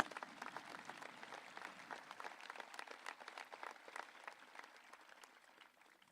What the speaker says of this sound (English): if we could give them a nice round of applause